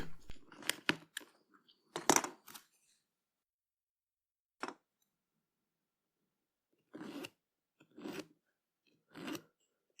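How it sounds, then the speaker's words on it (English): Small resin or plastic miniature parts for a Kroot Fleshshaper model are snipped and filed by hand, heard as a cluster of brisk scraping rasps, then a single short stroke and several separate filing bursts with quiet gaps between. "More filing."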